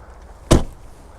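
A single sharp clunk from a rear door of a Mini Clubman JCW ALL4, a short close thud that quickly fades into quiet surroundings.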